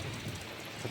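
Heavy rain falls in a constant wash of drumming water, a brief, low-level hiss with a faint rumble beneath it.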